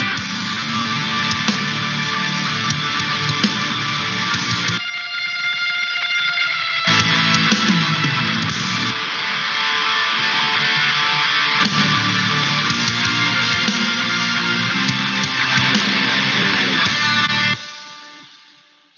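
An instrumental song chorus plays with guitars and bass and no vocals. It is a full, steady mix that drops out briefly twice before resuming and ends with a short fade.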